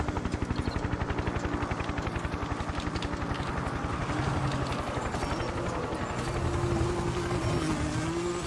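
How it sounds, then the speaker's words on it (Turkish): A helicopter in the Need for Speed video game gives a steady rapid rotor thump at first, mixed with a car engine drone that rises and falls, loud and continuous throughout. "Helikopter var az siktir."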